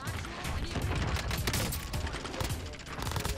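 Rapid Warzone gunfire crackles in dense, irregular bursts as bullets strike the player, fairly close and continuous over a few seconds with mechanical clatter.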